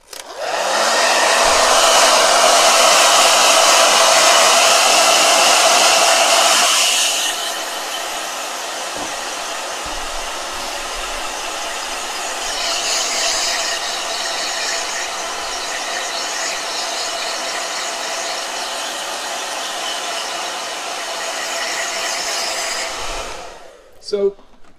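A handheld blow dryer runs loud and steady for roughly seven seconds, then continues at a lower, softer setting with a slightly fluctuating whir before cutting off near the end.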